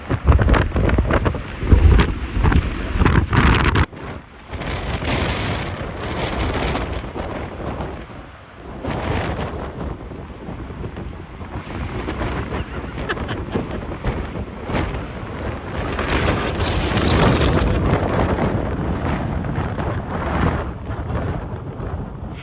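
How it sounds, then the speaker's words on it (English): Strong wind buffets the microphone outdoors at a hillside glassing spot during a Montana mule deer hunt, a loud continuous roar with heavy low rumbling gusts that rise and fall throughout. "we're just eating this wind right now really bad"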